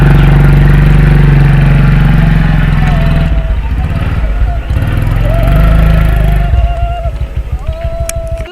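Motorcycle engine running close by, loud rumbling and idling with revs rising and falling, heard alone without talk.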